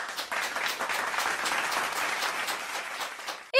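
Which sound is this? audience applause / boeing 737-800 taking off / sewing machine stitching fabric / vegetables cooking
audience applause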